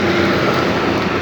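Heavy trucks rolling along the Merak–Cikampek toll road, a steady broadband traffic roar with low engine rumble, continuous and fairly loud throughout with no voices.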